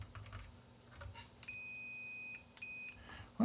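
A Keithley 190 digital multimeter sounds its steady continuity beep in two sustained tones, the first about a second long and the second shorter after a brief gap, clear over a quiet room hum.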